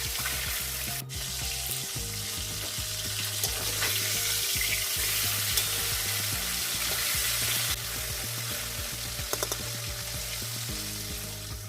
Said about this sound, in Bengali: আসলে ফুলকপি ভাজবো তো ফুলকপিগুলো লেগে লেগে যাতে না যায় সেই জন্য